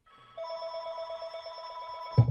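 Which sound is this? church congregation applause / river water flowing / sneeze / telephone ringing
telephone ringing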